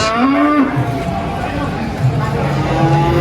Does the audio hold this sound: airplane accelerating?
no